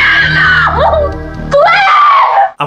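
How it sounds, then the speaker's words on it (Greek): A woman screams in a scene from the 1984 horror film A Nightmare on Elm Street, delivering a loud, sustained, shrill cry that wavers and breaks briefly before rising again, then cuts off abruptly. "η Νάνση φωνάζει με τα μάτια κλειστά"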